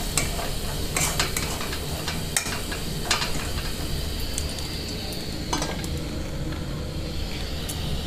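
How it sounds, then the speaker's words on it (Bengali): Ground coriander and turmeric stirred while frying for a bottle gourd and egg curry, a steady sizzle with repeated close scraping of a spoon against the pan, no talking. "ধনে গুঁড়ো, হলুদ গুঁড়ো,"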